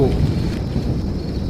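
Heavy rain and a low thunder rumble fill a cartoon storm scene set in darkness, a loud, dense wash of noise with no talking.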